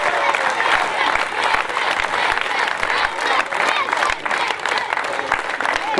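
Sustained crowd applause at a local cricket league final ceremony at DSC Ground, a dense steady wall of clapping lasting throughout with little variation in loudness.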